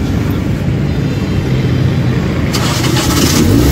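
A car engine is started after cooling down with a blown head gasket, a steady low rumble running throughout, rising slightly and gaining a hissy upper layer in the last second, with no talk over it.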